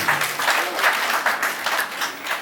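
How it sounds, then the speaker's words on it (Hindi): Enthusiastic clapping from the audience at the Rajasthan Karmveer Award ceremony, honouring a woman named Anjali, arriving in lively uneven surges of many hands that swell and dip. "जोरदार तालियां अंजलि जी के लिए"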